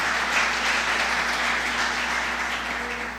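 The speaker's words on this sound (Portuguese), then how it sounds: "Você pode dar uma linda salva de palmas para o Senhor." A church congregation applauds at a women's service, with a dense, steady wash of clapping that holds evenly for about three seconds and tails off slightly at the end.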